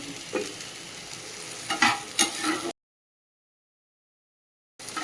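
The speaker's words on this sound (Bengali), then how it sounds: "এদিকে ভেন্ডি আর আলু ভাজা করে নিচ্ছি" Okra and potatoes fry in a pan with a steady, close sizzle broken by a few sharp stirring scrapes, then the sound cuts to silence for about two seconds before the sizzling briefly resumes.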